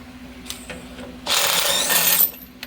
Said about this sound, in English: I do recommend using an impact. You'll never get it off the hand.